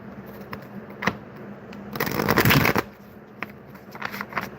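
Tarot cards are shuffled by hand in a quiet room, with soft riffling clicks and a louder, denser burst of shuffling about midway, then lighter scattered card taps near the end.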